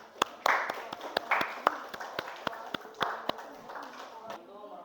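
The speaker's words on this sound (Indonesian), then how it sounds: "tepuk tangan dulu untuk kelompok 2" Applause for a student group in a classroom: sparse, irregular claps from a small number of people, sharp and distinct, with voices murmuring underneath, fading toward the end.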